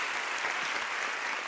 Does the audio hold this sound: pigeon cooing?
no